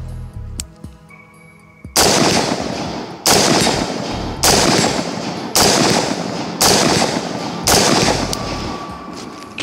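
Five loud, sharp unsuppressed AR-15 rifle shots with a Blackout Defense Quantum DTL muzzle device, fired at an even pace about a second apart, each with a ringing outdoor tail, after a few faint handling clicks.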